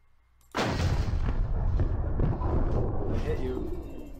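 In a PvP combat video game, a sudden heavy shot or flare launch bursts out loud after a quiet moment, followed by sustained booming, rumbling combat noise with scattered impacts.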